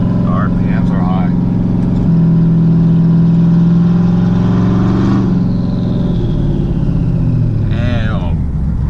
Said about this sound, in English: once I start wanting to get up to speed again and get on the gas, the RPMs are high.